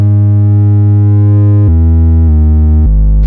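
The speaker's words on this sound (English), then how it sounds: "we are able to create really heavy overdrive sounds again." A loud, buzzing Moog Grandmother synthesizer drone with heavy overdrive, holding steady and then stepping down through a few pitches before cutting off abruptly.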